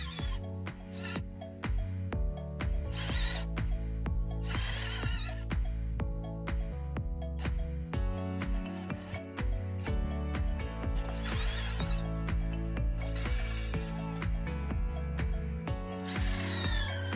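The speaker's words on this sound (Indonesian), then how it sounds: "saya coba untuk mengebor menggunakan mata bor ukuran 8 mm pada campuran semen dan pasir 1:4" A 12V SUNC Tools cordless drill with an 8 mm bit grinds into hard 1:4 cement-sand mortar, its motor revving in repeated bursts with rattling, chattering bites against the masonry.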